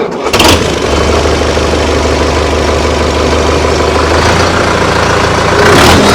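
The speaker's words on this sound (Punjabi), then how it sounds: "ਸਟਾਰਟ ਤਾਂ ਕਰ ਬਾਈ ਟਰੈਕਟਰ ਨੂੰ ਇੱਕ ਵਾਰੀ ਆਪਾਂ ਸਟਾਰਟਿੰਗ ਦਿਖਾਈਏ ਭਰਾਵਾਂ ਨੂੰ" A Solis 5724 tractor engine cranks and catches in a loud burst, then settles into a steady, deep diesel idle that runs on close by, with a slight rise near the end.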